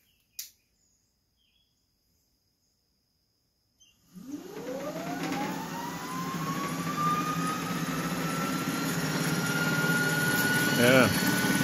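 An electric motor on a newly built mount spins up after a brief click and silence, its whine rising steeply in pitch and then settling into a steady, loud, smooth hum with a faint rattle near the end.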